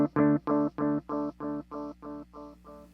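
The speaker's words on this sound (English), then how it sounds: "So when you first load up the resonant engine, the filters are not engaged, and it sounds like this." Encounter ambient delay pedal on its resonant engine with filters off gives a warm bucket-brigade analog tone, a short pulsing chord stuttering about eight times and fading gradually.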